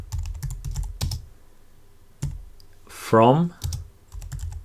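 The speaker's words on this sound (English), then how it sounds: "inside here we're gonna type connect" Keyboard typing while entering React-Redux code: bursts of quick, close key clicks and clatter come and go between pauses, and a brief spoken word sits in the middle.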